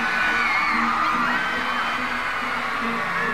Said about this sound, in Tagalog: Parang mas malakas yung sigawan dito ah.